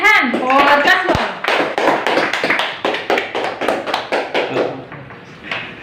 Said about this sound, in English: Clap hand for Kaswar.